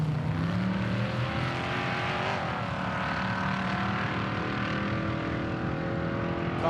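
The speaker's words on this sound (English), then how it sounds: "Car sounds fantastic." Off-road race car at King of the Hammers 2019 qualifying, its engine roaring loudly and continuously off the start line, steady and close with a rising rasp and no talk over it.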